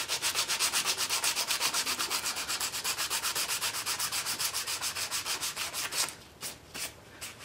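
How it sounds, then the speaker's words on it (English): Rapid rhythmic back-and-forth sanding strokes scrape steadily on the bottom of a homemade water-cooled Briggs engine project, close and even-paced, slowing into a few separate strokes at the end. "I think we're going to sand the bottom"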